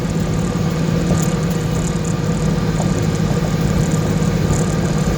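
A car engine hums steadily from inside the cabin with a constant low rumble, with no clear rev change that marks a gear drop.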